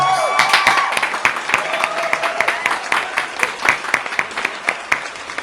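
Studio audience applause greeting a rowing guest on a Saturday afternoon television program, lively clapping with some cheering, thinning toward individual claps at the end, with voices mixed in.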